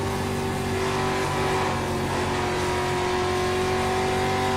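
Street stock race cars in iRacing at Bristol, a short oval track, produce a steady, loud, dense engine drone from a pack of cars, a continuous buzzing roar without breaks.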